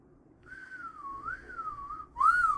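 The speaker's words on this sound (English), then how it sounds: "Whistling is hard." A person whistles a wavering, sliding tune alone, clear and close, ending in a louder rising note, while playing Skyrim.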